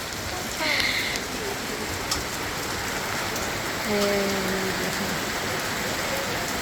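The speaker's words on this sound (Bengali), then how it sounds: "এই যে ঘুরা ঘুরা বৃষ্টি পড়তেছে।" Light early-year rain falls on outdoor surfaces as a soft, steady patter that stays even and fairly close, with a few faint bird calls and small background sounds but no clear talk.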